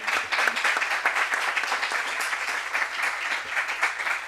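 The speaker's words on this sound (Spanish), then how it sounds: "un fuerte aplauso" An audience at an international conference on education policy applauds steadily, a dense, even wash of clapping from many hands that holds for several seconds.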